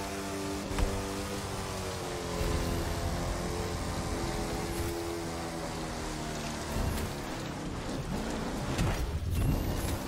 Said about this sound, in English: The truck does not turn well in the dirt. It just kind of keeps sliding along.